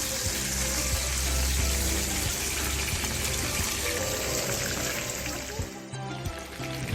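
Tandoori chicken pieces frying in a pan on the stove, a loud, dense, continuous sizzle and hiss that holds steady throughout, easing slightly toward the end.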